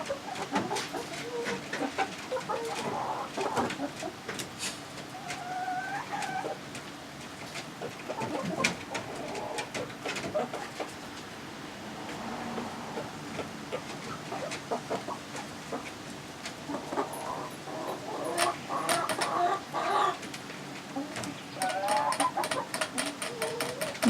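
Hens in a backyard flock cluck and coo softly while pecking at greens, with scattered bird calls and light scuffling close by, steady and busy throughout with no talking.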